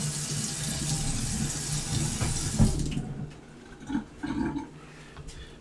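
Water runs steadily into a kitchen sink and gurgles down the drain, a continuous close rushing that cuts off partway, leaving a few irregular gurgles and drips.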